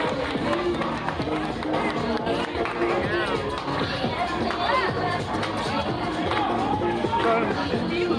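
A busy crowd mills through the South 9th Street Italian Market street festival, with dense overlapping chatter, footsteps and street bustle all around, close voices talking throughout amid a steady general din.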